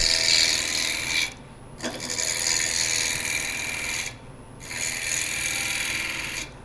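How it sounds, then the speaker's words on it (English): Roughing gouge cutting a small cherry wood block held in a lathe chuck, a gritty scraping rasp in three long passes with brief quiet gaps between, close and steady. "I'm starting with just a standard roughing gouge. And we're just gonna get this round. It's a little block of cherry."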